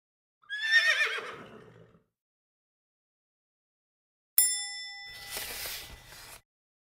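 A cartoonish horse whinny sound effect in a children's storybook reading, a bright high neigh followed after a pause by a clanging ding with ringing tones, each standing alone with no talk.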